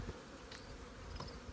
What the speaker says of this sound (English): Gosh, there's so many bees.